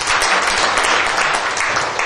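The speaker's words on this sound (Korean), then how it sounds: "박수 한번 치주시죠" Audience at a panel discussion on the inter-Korean information gap bursting into loud, dense applause, close and sustained for the whole moment.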